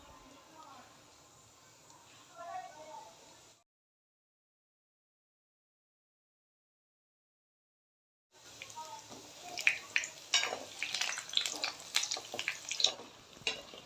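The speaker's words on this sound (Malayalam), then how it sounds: "മുട്ടിയ ഇട്ടുകൊടുത്ത് വറുത്തെടുക്കാം." Muthiya dumplings deep-frying in oil for Gujarati undhiyu give a dense, crackling sizzle that starts up after a silent gap, with faint kitchen sounds before it.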